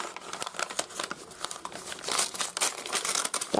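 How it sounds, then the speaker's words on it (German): Plastic bag crinkling and rustling up close, a steady stream of crisp crackles that swells louder toward the end. "Dafür machen wir uns die Tüte erstmal auf."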